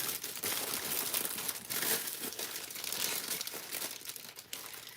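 Plastic garbage bags are handled and scrunched, giving a continuous, close crinkling and rustling with bursts of sharper crackles, steady for several seconds with no talking.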